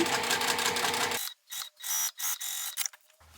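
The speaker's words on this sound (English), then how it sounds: "Just going to top stitch 1/8 of an inch away." A sewing machine top-stitches fabric 1/8 inch from the seam: a dense whirring run of stitches, then several short stop-start bursts of mechanical clatter separated by near-silent pauses.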